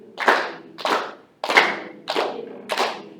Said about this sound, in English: 1, 2, clap and count.